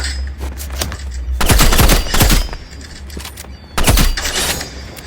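Video game gunfire with a sniper rifle crackles in loud, dense bursts, two long volleys separated by a quieter gap, sharp and close with no talking.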